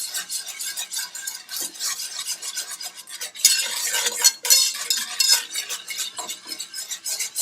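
A roux being stirred in a pan for classic baked macaroni and cheese: brisk, continuous scraping and swishing strokes of a utensil against the pan, close and fairly loud, with a faint sizzle beneath and no talk.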